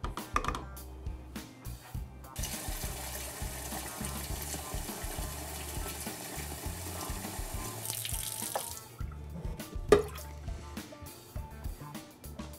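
Water runs from a tap into a stock pot for a soup or stock, a steady splashing gush that rises as the pot fills, with clinks and handling bumps around it and no talking.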